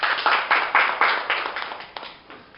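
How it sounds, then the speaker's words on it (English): A group claps in a loose rhythm of distinct slaps, strong at first and then tapering off as the clapping fades out. "an applause to them."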